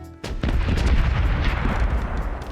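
Ship cannons fire in a naval battle in the pirate game Corsairs Legacy, a sharp onset followed by a sustained, loud rumbling barrage of overlapping booms.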